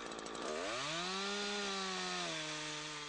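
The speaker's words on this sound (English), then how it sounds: "Now it's time for the felling cut." Chainsaw making the felling cut in a tree: the engine is revved up into a loud, sustained whine that holds steady, then drops slightly in pitch near the end, with no talking.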